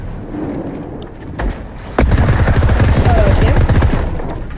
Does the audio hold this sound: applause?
no